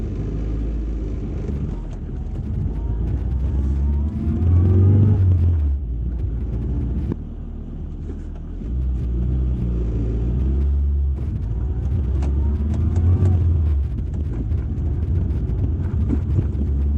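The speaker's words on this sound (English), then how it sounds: "it's the first time I've driven this car as well" Classic Mini car on its first drive in 14 years, with a loud, rumbling engine and road noise heard from inside that surge and ease as it accelerates and shifts, plus bursts of wind buffeting.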